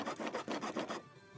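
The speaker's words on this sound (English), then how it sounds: "I'm going to go ahead and use my regular handsaw." Hand-held regular handsaw cutting wood while building a budget pallet breaker: about six rhythmic, raspy back-and-forth strokes close up, then the sawing stops abruptly and a quiet room remains.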